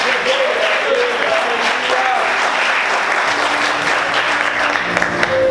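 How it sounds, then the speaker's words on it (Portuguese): A church congregation claps loudly and continuously during a Portuguese-language sermon, a close, full wash of hands. Faint voices and a few tonal sounds sit underneath, and a low organ-like drone enters partway through. "Vamos aplaudir Jesus mais forte."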